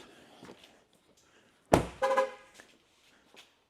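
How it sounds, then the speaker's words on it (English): A single short car horn honk sounds near a parked 2024 Chevrolet Silverado 2500 HD pulled into a shed, followed by a brief rattling thunk and then quiet. "Don't know what that's honking at me for."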